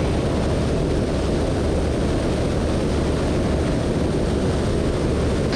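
Seaplane engine droning steadily at close range as the floatplane sets down on water and turns, a continuous broadband roar with no pauses and no voices.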